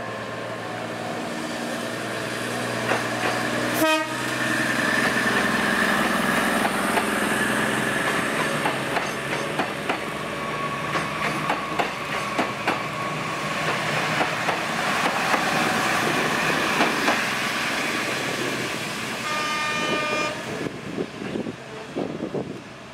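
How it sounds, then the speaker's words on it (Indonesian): The KA Solo Express from Kutoarjo, bound for Solo Balapan and just departed Lempuyangan station, rumbles past with a steady clatter and wind buffeting, and a horn sounds briefly early on and again near the end. "KA Solo Express dari Kutoarjo tujuan Solo Balapan yang baru berangkat dari stasiun Lempuyangan beraksi"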